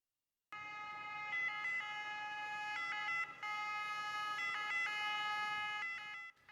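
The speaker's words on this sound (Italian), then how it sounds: "L'idroambulanza percorre il Canal Grande a sirene spiegate." A water ambulance races along Venice's Grand Canal with its siren wailing, a loud, steady two-tone electronic siren that alternates pitch repeatedly and fills the whole stretch with no voices over it.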